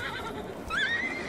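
A horse in a Roblox Wild West game gives a single short, rising whinny, fairly faint over a low background hum.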